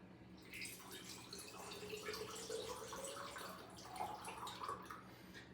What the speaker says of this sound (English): And I complete the rest with water.